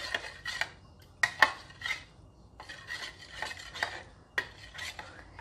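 Orange chicken sauce being mixed in a bowl: soft scraping and clinking strokes of a utensil against the dish, repeated in irregular bursts, close and fairly quiet with no talking.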